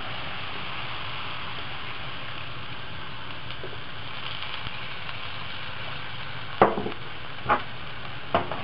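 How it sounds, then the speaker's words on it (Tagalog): Kung Pao sauce is stirred into shrimp cooking in a pan, a steady low sizzle under a constant background hum, with a few sharp utensil knocks toward the end. "After cooking the shrimps for a few minutes, ihahalo na natin yung Kung Pao sauce."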